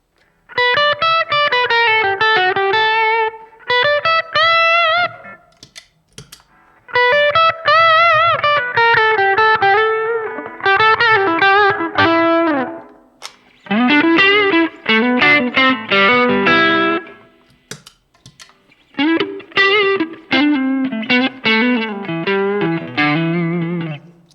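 Electric guitar runs through Tube Screamer and Radial Bones overdrive pedals, playing loud, saturated chords and melodic phrases in bursts separated by short pauses, with no talking.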